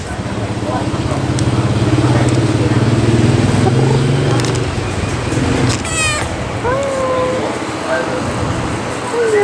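A cat purrs in a low steady rumble close by, then meows a few times as traffic hums in the background on a street in George Town, Penang, Malaysia.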